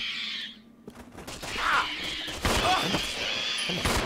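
Shotgun blasts in Resident Evil 0 HD, a few sharp bursts over busy game noise with a voice talking now and then.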